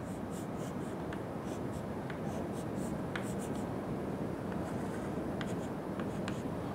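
Chalk or pen drawing a diagram during a lecture, continuous faint scratching strokes with light taps, close and steady without talk.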